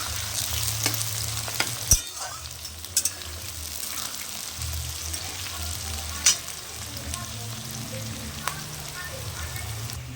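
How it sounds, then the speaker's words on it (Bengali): Onions fry in a pan for a chicken curry, giving a steady close sizzle with occasional sharp spatula knocks against the pan as they are stirred. "এবার ভালো করে আমি পেঁয়াজটাকে ভাজতে থাকবো"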